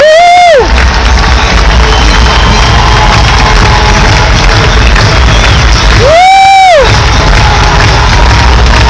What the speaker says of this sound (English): I'd like you guys to give them a round of applause